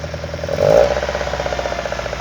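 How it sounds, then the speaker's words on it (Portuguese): A Kadett GS engine with a Solex C40 ADDHE carburetor, running on ethanol, idles close by with an uneven, rattly pulse, briefly swelling louder before settling back into its rough, throbbing rhythm. "O barulho a gente pode escutar que não tá bonito, não tá liso. O motor até vibra mais."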